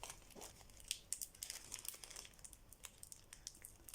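A small folded paper tucked inside another small paper is unfolded up close, giving a quiet run of crisp crinkles and rustling snaps that continue steadily for several seconds, with no talking.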